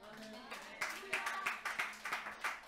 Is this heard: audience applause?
yes